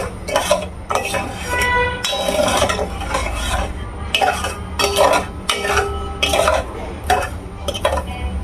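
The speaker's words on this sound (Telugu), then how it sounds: "మనం కలుపుతూ ఉండాలి, షుగర్ అనేది మెల్ట్ అవ్వాలి మంచిగా" Sugar syrup for gulab jamun stirred in a pot, a spoon scraping and clinking against the metal in repeated bursts of several strokes separated by short pauses, close and clear.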